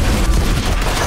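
A grenade blast in Valorant lands as a short, loud, booming burst of broadband noise that stays dense and rumbling for about a second, with no speech on top.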